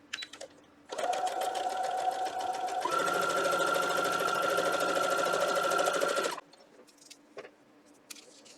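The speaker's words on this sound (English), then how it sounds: "So that's how I'm going to sew them." A sewing machine stitches quilt block pieces for a shattered star block in one continuous run of about five seconds, steady and close, with small handling noises before and after.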